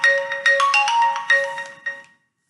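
A mobile phone ringtone plays a bright electronic melody in short repeated bursts for about two seconds, close and clear with no talking, then stops abruptly.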